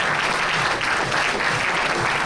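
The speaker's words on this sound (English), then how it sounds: "Some of you who have forgotten to clap earlier, there's an opportunity now." Dense, steady audience applause filling the hall at an ultramarathon championship opening ceremony, loud and continuous with no breaks.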